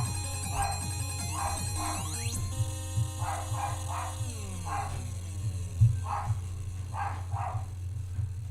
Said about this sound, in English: the dog saw somebody exist outside the house and now it's barking its full head off.